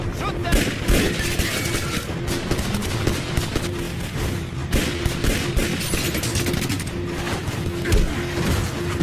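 Gunfire erupts in an action movie scene, with a dense, continuous barrage of shots and booms running throughout under shouting voices.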